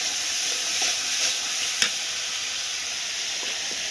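Spices fry in hot oil for a bottle gourd curry, a steady close sizzle with stirring and one sharp utensil scrape midway, no talking.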